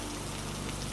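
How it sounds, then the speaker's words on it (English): Steady rain falls on a surface, a dense continuous patter of drops that holds an even level for the whole second with no voices. "The rain had come."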